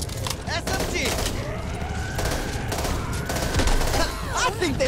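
Rapid SMG bursts rattle continuously in the zombie shooter Back 4 Blood, loud and close, with a voice speaking briefly over the chatter of fire.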